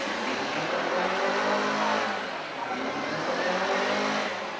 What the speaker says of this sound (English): That car you hear running is Mike Thiebold.